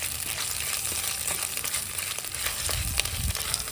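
Ginger garlic paste frying in hot oil for a chicken fry with onions and chillies, a steady close sizzle with occasional stirring scrapes and no talking.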